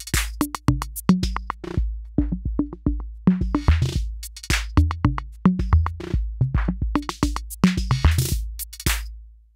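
Arturia DrumBrute analog drum machine pattern run through its low-pass output filter, giving dull, muffled kicks and snares alongside brighter hat hits in a steady repeating groove, loud with no voices.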